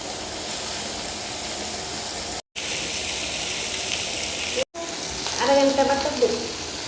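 Spicy fish frying in a pan, with a continuous loud sizzle cut by two brief gaps and a voice talking over it near the end.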